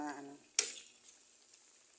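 Eggs go into a hot pan for egg adobo with potatoes, giving a sudden loud sizzling burst that fades into a softer, steady frying crackle, heard alone after a brief bit of talk.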